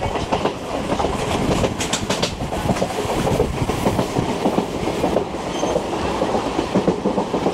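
A local train on the Digha to Howrah line rolls along with a steady loud rumble, rhythmic wheel clatter on the rails, and faint squeals running through the ride.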